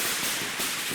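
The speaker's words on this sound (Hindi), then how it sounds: "जल्दी से पटाखे लगाओ, वहाँ से भाग" Firecrackers set off in a festive celebration, heard as a sharp, noisy burst of crackling that fills the short moment at close range with no talking.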